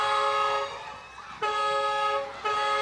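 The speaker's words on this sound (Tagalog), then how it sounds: "Lakas ang busina ng tricycle dyan, no?" A loud, nasal tricycle horn honks three times in long blasts, close by, with short gaps of street noise between them.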